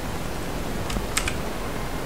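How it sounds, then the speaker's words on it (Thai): A few quick, light computer keyboard keystrokes click close to the microphone over a steady background hiss, with no speech. "ถ้าเสียงคีย์บอร์ดเข้าต้องขออภัยด้วยนะฮะเพราะว่าคีย์บอร์ดมันอยู่ใกล้กับปากผมนะฮะ"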